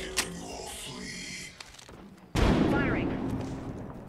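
Gunfire in the Apex Legends video game, a sharp loud burst cutting in midway that rings on with crackling shots under in-game voice lines.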